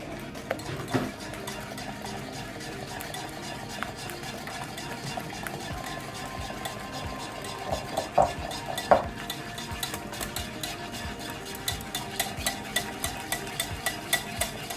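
Carrot cake batter being stirred by hand, with soft wet churning and repeated light spoon clinks against the container that grow sharper toward the end, close and unaccompanied by speech.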